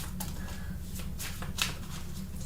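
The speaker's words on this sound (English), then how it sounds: "That was just a bad shuffle." Tarot cards riffle and shuffle in a steady papery patter with a few sharp snaps, close up, over a low constant hum.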